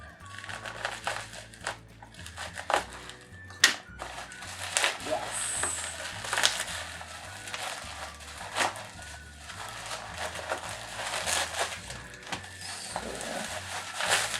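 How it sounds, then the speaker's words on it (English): Bubble wrap packaging is handled and pulled from a delivery packet, producing irregular crinkling and crackling bursts, some louder snaps, close up and continuous with no speech. "The bubble wrap."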